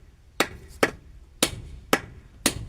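Five sharp hammer blows strike in a steady, slightly uneven rhythm while a cow pen is being built, each a loud close crack with a short ring, over quiet outdoor background.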